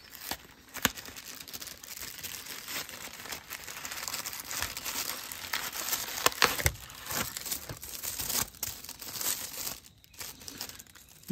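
Plastic packaging around Vesta firelighter cubes crinkles and rustles nonstop as it is unwrapped up close, with bursts of crumpling and a few sharper crackles and tearing sounds.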